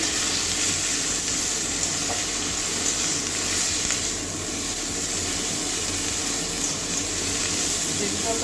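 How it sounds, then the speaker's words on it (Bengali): Pointed gourd peels frying in a pan give a loud, dense, unbroken sizzle that holds evenly from start to finish, close up. "এবারে চকলাগুলো দিয়ে দিচ্ছি সব বাটার করে আমি আর ভাজবো না এখনই যা ভাজার ভেজে নিচ্ছি"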